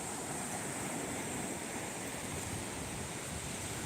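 Surf rolls onto Jumiang beach in a continuous, even wash of waves with a hiss of wind, moderately distant and steady, no speech.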